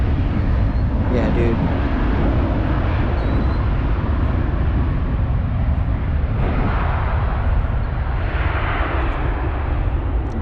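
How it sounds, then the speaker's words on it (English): Jet airplanes pass low over a cemetery in Illinois, producing a continuous loud roar and broadband rumble that never lets up. "Very loud from the planes, and it's non-stop."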